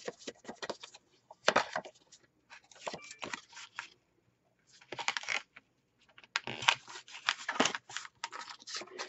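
Scissors cutting paper pieces for a wallet mini album, a string of crisp snips and rustles in clustered bursts with short pauses between cuts, close and alone.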